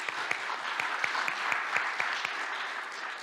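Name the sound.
audience applause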